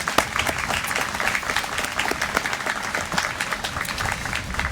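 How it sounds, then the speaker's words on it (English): An audience at a university arboretum dedication claps in dense, sustained applause that stays loud and even throughout, with no speech over it. "How about one more round of applause?"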